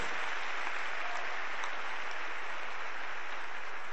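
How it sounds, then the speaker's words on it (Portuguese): A church congregation applauds in a thick, even roar of clapping that holds at a constant level from start to finish. "Aplaude o Senhor, varão, varoa."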